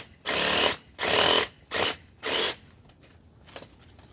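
A Black & Decker 20V cordless reciprocating saw cuts through apple tree branches during pruning, with four loud, close bursts of buzzing, rasping strokes separated by short pauses, then a faint trailing rustle.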